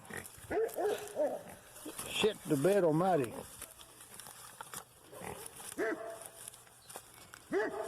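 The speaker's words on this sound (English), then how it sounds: "Wow, how does the pig get so drunk?" A pig in a video game grunts and squeals in several short bursts, including one wavering, drawn-out call, mixed in with a voice talking over it and other game sounds.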